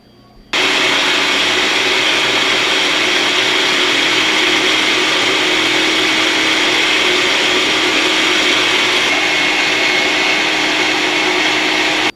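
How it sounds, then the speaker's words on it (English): A meat grinder working through chilled, chopped burger meat gives a loud, continuous mechanical whir that starts abruptly and holds steady, close up, with no voices. "we have our meat all ground up"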